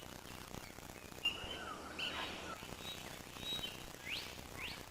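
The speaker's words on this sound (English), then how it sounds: "This is a blue bird of paradise." A blue bird of paradise calls in a New Guinea forest at early morning, a few faint, scattered, sharp whistled and chirping notes over soft background ambience.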